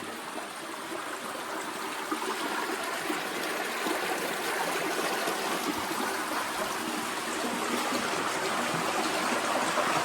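Cold stream water rushes steadily and fairly loudly through an 1884 railroad culvert, a constant splashing flow with no voices.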